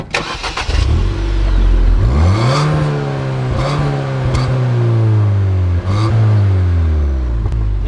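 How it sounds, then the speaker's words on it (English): A Ford Fiesta ST engine cranks and catches, then the exhaust drones and revs in a low, hollow, vacuum-like hum, loud and close, dipping briefly near the end. "Something about the exhaust, if I come through here, it sounds like a Hoover"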